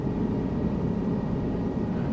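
Helicopter in a flight simulator game, a steady low rotor and engine rumble holding evenly throughout, fairly loud with no voices.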